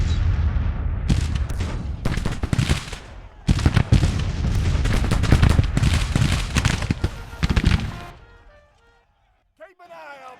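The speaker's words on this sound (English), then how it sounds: "Or anyway, we let our artillery shoot." Cannon and musket fire rage in a Grand Tactician Civil War battle for Saint Louis: dense, loud bursts of booming and crackling shots for about eight seconds, then a sudden drop to near quiet.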